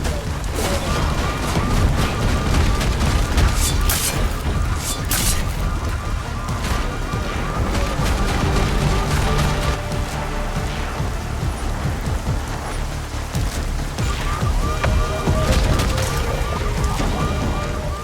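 Dense, continuous gunfire from the video game Deus Ex: Mankind Divided, fired at a bar, with loud crackling bursts filling the whole stretch and never letting up.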